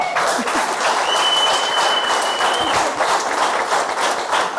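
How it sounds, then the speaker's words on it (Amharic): A studio audience at a televised game show applauds with sustained, even clapping throughout, loud and close, with a faint tone running briefly under it. "ስለዚህ የነ ሜሪ ቡድን ለጀግና ተሸናፊነቱ ሞቅ ያለ ጭብጨባ።"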